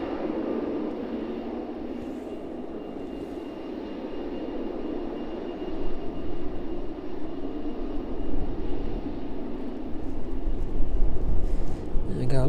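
An aircraft rolls along the runway at East Midlands Airport in the evening, a steady broadband engine roar that swells gradually toward the end, heard at a moderate distance.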